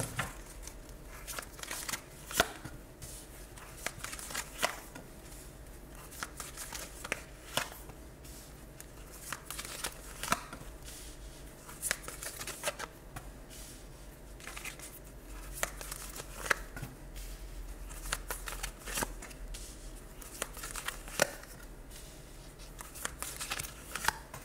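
Oracle cards being shuffled by hand at close range, a steady papery riffling and patter with occasional sharper slaps of the deck, running quietly and continuously without talk.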